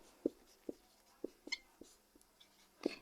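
Marker or chalk tapping and scratching on a board as a maths equation is written out, a string of short, crisp taps and strokes at an uneven pace, quiet and close, with no speech.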